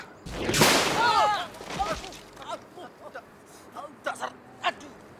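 A cartoon-style explosion bursts loudly as a rock is blasted by a closed umbrella in an Indonesian comedy show, followed by scattered debris clatters and short gasps and cries.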